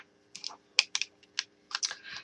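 Sheets of card stock pressed through an embossing folder machine give a string of short, sharp clicking and crackling bursts, close and fairly quiet, in an uneven rhythm with brief pauses.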